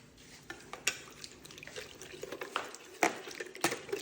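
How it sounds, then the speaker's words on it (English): A spoon stirs milk in a bowl to make a slurry for homemade yogurt, giving soft liquid swishes broken by a few sharp clinks against the container, quiet and close. "just thoroughly mix it and create a slurry."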